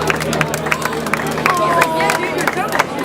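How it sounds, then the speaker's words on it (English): Wedding guests clapping and cheering at a reception, a steady burst of applause with whoops and crowd babble throughout. "How about a nice round of applause for Bob and his daughter?"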